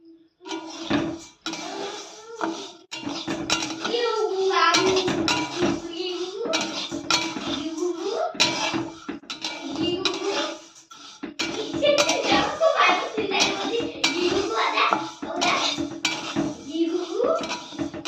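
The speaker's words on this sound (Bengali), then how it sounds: "আমি এখানে আতর চালটা ধুয়ে নিচ্ছি, 500 আতর চাল নিয়েছি।" Aromatic atop rice, 500 of it, being washed in a pot: close, busy clattering and scraping of grains and metal, with water sloshing and repeated clinks in uneven bursts, occasional voices faintly in the background.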